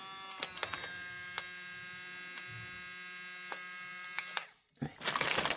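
A small electric milk frother for coffee runs with a steady, thin motor whine and faint ticks, then cuts out and gives way to a louder burst of rustling noise.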